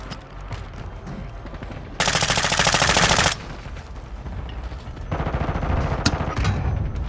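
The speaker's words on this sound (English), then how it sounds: "I'm getting shot at though." Gunfire in Call of Duty: Modern Warfare II on the Vondel map: a loud, sustained automatic burst, a quieter lull, then another long volley of rapid shots, close and dominant.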